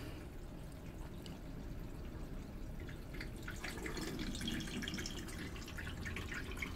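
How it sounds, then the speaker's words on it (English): Water filling the membranes of a BRS 4-stage RO/DI system, a steady close hiss and trickle of flowing water with faint dripping and gurgling that grows slightly busier partway through. "There you go, the water is filling up the membranes."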